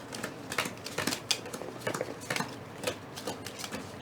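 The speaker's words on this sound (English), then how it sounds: "now we're gonna shuffle here" Cards for the Forbidden Stars board game being shuffled by hand, soft quick riffling and tapping in short irregular bursts, close and fairly faint, with no talking.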